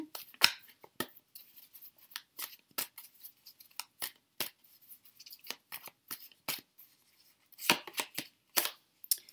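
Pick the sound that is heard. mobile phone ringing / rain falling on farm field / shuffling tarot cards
shuffling tarot cards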